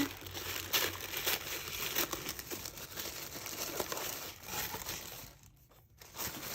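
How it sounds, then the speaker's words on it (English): Tissue paper is ripped open and crinkled during the unboxing of a November Pixie Box, giving continuous close rustling and tearing with a brief pause near the end. "So let's rip open the tissue paper."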